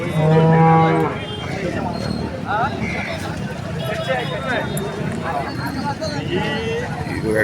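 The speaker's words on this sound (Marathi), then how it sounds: "गाई आली बघा इथं एक नंबर गाई" Loud, drawn-out cow moos ring out over a steady hubbub of crowd noise and chatter at Vadgaon market in Kolhapur district, India, with more lowing cattle calling intermittently in the background.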